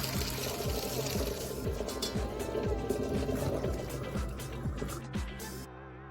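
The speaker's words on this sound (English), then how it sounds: "Now we're straining the pasta." Cooked pasta being strained, water pouring out in a steady wet splashing stream with soft clattering of pasta in a colander, fairly quiet and close.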